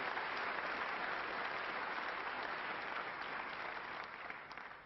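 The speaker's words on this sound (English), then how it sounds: "Warm applause for back-to-back centuries" Snooker spectators at the 1996 UK Championship final give warm, steady applause after back-to-back century breaks, a dense, even wash of clapping from a distant crowd that tapers slightly at the end.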